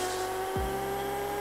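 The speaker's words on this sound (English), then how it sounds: "now, we're going to be doing some quarter mile runs and some half mile runs" Drag car launching on a quarter mile run in the Pixel Car Racer video game: a steady synthesized engine drone with a sudden low revving sweep near the middle, then a sustained high engine tone, no talk.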